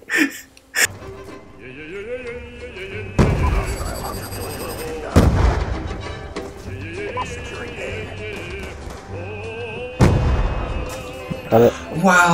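Call of Duty Black Ops 2 gunfire, heavy booming shots at irregular intervals mixed with game effects and music, with people talking throughout.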